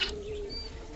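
A fantail pigeon coos softly and close by in one brief low murmur, with a faint flutter at the start.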